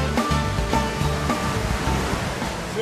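High-speed water jets at an artificial river surfing wave rush in a steady, loud, broadband roar with no speech.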